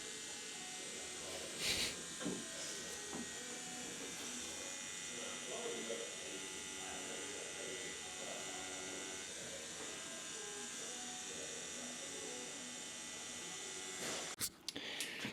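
A tattoo machine buzzes steadily while filling yellow ink into a skull and bird tattoo, a continuous mid-level hum with brief louder bursts near the start and end, and people talking faintly around it.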